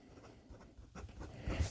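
A Ensso Piuma pocket fountain pen in Ultem with a Bock nib scratches softly across paper in short strokes, quiet and close, with faint intermittent scribbling and a slightly louder stroke near the end.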